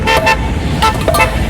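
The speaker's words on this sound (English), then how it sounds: "Why are you honking at me?" Car horn honking in city traffic in Miami, several short, loud toots in quick succession, close by, with road noise underneath.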